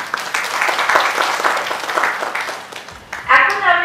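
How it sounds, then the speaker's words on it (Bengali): Audience applause for sponsors at the Shakti Samman 2022 award show, a dense steady wash of clapping that swells louder near the end. "সমস্ত আমাদের যারা স্পন্সর তাদের জন্য একটা জোরে হাততালি হয়ে যায়।"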